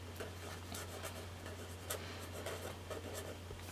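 A fine point Sharpie scratches and glides across planner paper in short, irregular strokes, close and soft, with a faint steady hum beneath and no talking.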